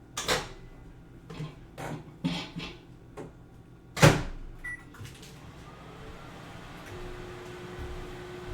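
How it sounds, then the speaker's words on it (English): A microwave oven runs with a low steady hum while melting butter in a bowl, preceded by a few clunks and taps as the door and bowl are handled, ending in a soft beep. "put this butter in a bowl, put it in the microwave, melt that down"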